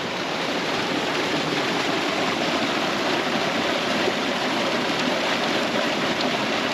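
A steady, loud rushing of water pours out through a drain pipe from a large ten-acre pond, a continuous broadband roar with no pauses.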